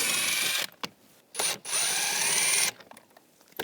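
A power driver with a 7mm socket whirs in loud, close bursts as screws come out of a Chevrolet Equinox interior panel. Short pauses with small clicks separate the runs.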